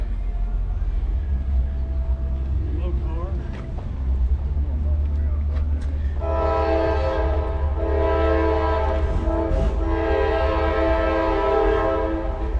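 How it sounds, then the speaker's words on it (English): A coal train rumbles past close by, then a loud, sustained multi-tone horn blares twice over the steady roar of the cars. "Hear that train a-coming."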